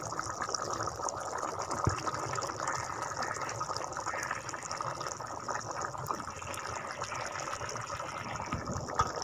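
Water pours steadily into a cooking pot holding lemon juice and spices for a masala, a continuous trickling, splashing fill with no speech.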